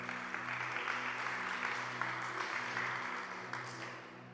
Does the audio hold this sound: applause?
yes